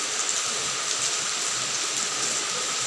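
Heavy monsoon rain pours steadily in Haripur, a dense, even hiss of drops on surfaces, loud and unbroken with no voices.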